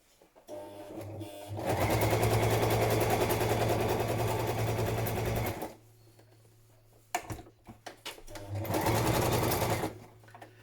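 A sewing machine stitches a padded patchwork journal cover in two long runs of fast, steady stitching, close and loud, with a short quiet pause and a few clicks between them.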